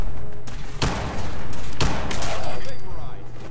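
Two sharp, loud gunshots in the game Fallout 4, about a second apart, each cracking sharply and ringing briefly, with someone speaking around them.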